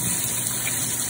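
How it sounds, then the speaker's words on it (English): Hot water from boiling grape leaves poured away in a steady, loud gushing stream, continuous and close, with no talk over it. "Okay, we're throwing the soup away."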